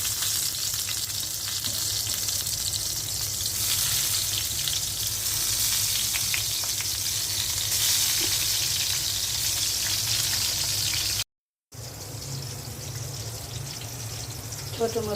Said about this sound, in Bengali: এখন বেগুনটা ভেজে নেব। ফ্রাই প্যানে তেল দিয়ে দিয়েছি।